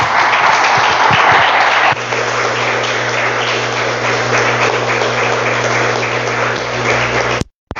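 A church congregation claps in praise during a worship service. Loud, sustained clapping comes from many hands over a low steady hum, thins slightly after the first two seconds, then cuts off abruptly near the end.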